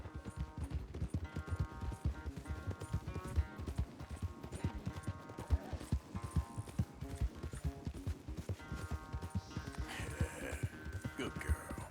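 Rapid hoofbeats of a horse galloping in a race in Red Dead Redemption 2, a steady driving clip-clop rhythm close up for the whole stretch, with music and snorts around it.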